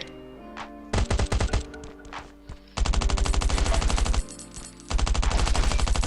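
Rapid automatic gunfire in the survival video game Last Island of Survival, several loud, close bursts of fast shots separated by short pauses, the last two bursts long and sustained over faint background game sounds.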